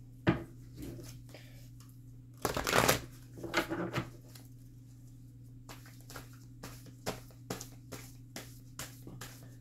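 Tarot cards are shuffled by hand at close range: a loud flurry of riffling and shuffling near the middle, then scattered soft card taps and slides over a steady low hum. No one speaks.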